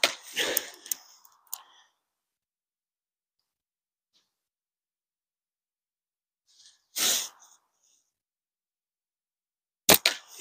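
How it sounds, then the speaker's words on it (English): A slingshot fitted with a slightly heavier pouch fires single sharp snapping shots at widely spaced intervals, loud and close, with near silence between them. "I'm going to take 10 more shots with the slightly heavier pouch"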